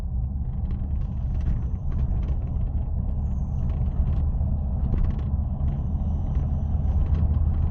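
Steady low road rumble inside a moving car, continuous engine and tyre drone filling the cabin with faint mechanical rattles on top, no talk.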